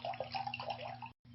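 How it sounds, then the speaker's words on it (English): 10 Sisters Sauvignon Blanc 2010 white wine being poured into a glass: a soft, close trickling and splashing of liquid lasting about a second, faint and steady, then a brief cut. "number 1, 10 Sisters Sauvignon Blanc, 2010. We're going to pour that into number 1."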